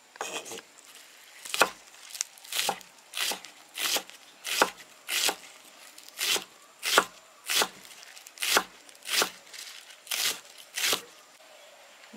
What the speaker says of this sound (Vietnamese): Giờ mình xắt hành ngò.